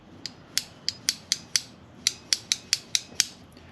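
Sharp clicks from the throttle of a Yamaha FZR1000 motorcycle being twisted and snapping back, about a dozen crisp close mechanical ticks at an uneven, roughly steady pace with nothing else heard.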